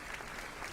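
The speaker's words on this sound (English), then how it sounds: "Applause sticker." A short burst of stream applause sticker sound effect, a dense wash of crowd clapping that stays steady and fairly quiet for under a second.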